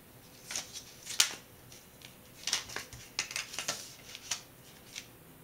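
Scissors snip through paper being trimmed to wrap a kitchen storage jar, giving several short, crisp cuts with brief rustling between them, close and fairly quiet.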